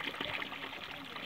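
Water from a newly installed motor-driven water pump gushing out in a short burst, a soft, hissing stream that sounds faint against the quiet surroundings.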